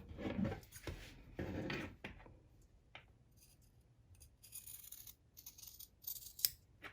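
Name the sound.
scissors trimming fabric close to sewn seams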